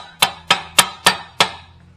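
A hammer strikes a weld on the rotted frame of a Honda GL1000 motorcycle five times in steady rhythm, each blow a sharp, close metallic knock.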